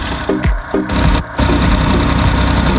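A Suzuki Scrum 4x4 mini truck engine idles close by with a rough, knocking chug, steady throughout, with a few brief uneven sputters near the start.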